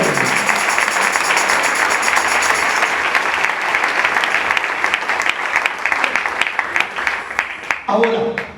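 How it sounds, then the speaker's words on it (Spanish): Congregational applause for the Lord in a church service: sustained, fairly loud clapping that thins out toward the end, with voices over it. "Denle ese aplauso al Señor si es para Él."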